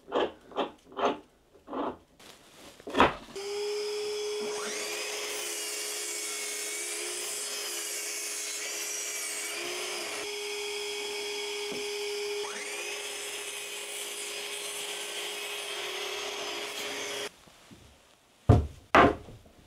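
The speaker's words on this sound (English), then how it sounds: "I'm going to do that on the miter saw." A miter saw cuts lengths of wood for a garden obelisk, a loud sustained motor whine lasting about fourteen seconds with the blade biting through the timber, framed by short knocks and handling clatter before and after.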